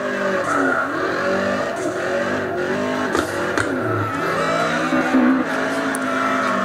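A car in the CarX Drift Racing 2 video game slides through drifts, its engine revving in sweeping rises and falls while tires screech and skid in repeated bursts, loud and continuous with no voices.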